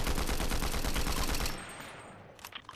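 Rapid automatic gunfire in an escape room video game, a fast steady burst of loud repeated shots lasting about a second and a half, then stopping abruptly, leaving quieter scattered clicks and faint sounds.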